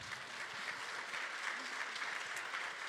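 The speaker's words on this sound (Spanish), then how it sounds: "Y sin más, Pastor Jesse, hay que recibirlo con un aplauso, por favor." Applause rings out steadily from a church congregation as a pastor is welcomed, a dense, even clatter of hands that fills the space without voices on top.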